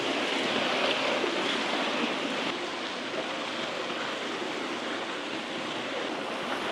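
Barrel mixer churning hot-mixed lime plaster mortar, a steady continuous broadband wash of tumbling, sloshing material with no pauses, fairly loud and close, no voices.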